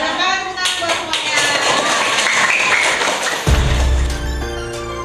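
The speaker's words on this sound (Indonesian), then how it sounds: "Kalau sudah semangat, tepuk tangan buat semuanya." Children and teachers at an Indonesian primary school clap, an irregular patter of hand claps that ends abruptly, mixed with young voices chattering.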